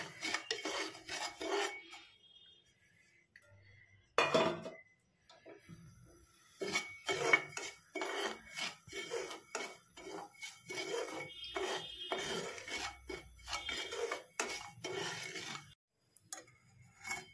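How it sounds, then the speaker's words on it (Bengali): Dry semolina (suji) being roasted in a pan, heard as soft, faint gritty scraping and rasping strokes of a utensil, irregular and repeated, with brief pauses and a few light clinks. "ফার্স্টে এক বাটি সুজিটাকে ড্রাই রোস্ট করে নিতে হবে"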